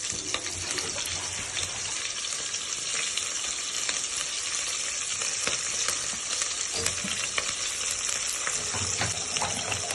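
Mustard seeds, cumin and green chilies frying in hot oil, a dense continuous sizzle and crackle close up that holds level throughout, with no talk over it.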